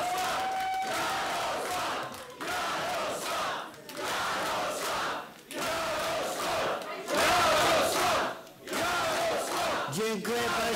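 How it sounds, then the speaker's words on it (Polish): A large crowd at a Jarosław Kaczyński political event roars and chants in loud surging waves, cheering rhythmically with brief dips between bursts. "Ogromna brawa!"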